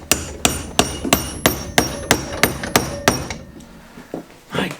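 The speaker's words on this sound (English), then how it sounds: "knock them out and destroy the bearings" A hammer drives a 17mm socket on an extension bar to knock bearings out of a mountain bike frame tube: about nine ringing metallic blows in a steady rhythm, close and loud, then quiet shuffling.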